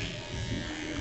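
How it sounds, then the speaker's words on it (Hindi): A Geemy cordless electric hair trimmer runs steadily with a continuous, close motor buzz, heard alone without any voices. "और ये हमारा ट्रिमर चल रहा है"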